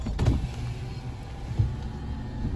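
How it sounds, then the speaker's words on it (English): A car's electric power window lowers with a low, steady motor whir, close by inside the vehicle, with faint knocks at the start and end and no talking. "Can you roll down that window just for a second?"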